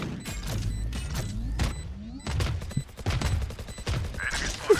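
Bursts of Phantom rifle gunfire in a Valorant match, several rapid volleys with short pauses between them, loud and close, with game effects and mechanical clicks mixed in.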